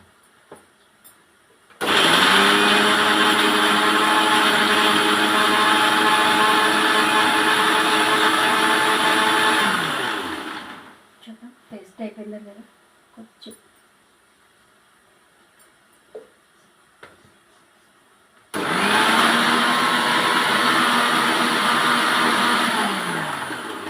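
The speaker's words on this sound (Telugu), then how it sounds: "మిక్సీ పట్టుకుందాం" A mixer grinder blends green chillies and coriander with salt into a paste, roaring loud and steady for several seconds, stopping briefly with a few clinks, then starting up again.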